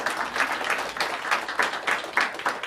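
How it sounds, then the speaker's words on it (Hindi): An audience at the Mumbai launch of the Buzzflix OTT platform applauds in a sustained patter of many hands, with louder swells of clapping recurring throughout. "वाह, तालियां।"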